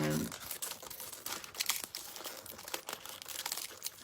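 Thin foil crinkles and crackles as scissors cut it into strips for a shoe craft, giving irregular close bursts of rustling.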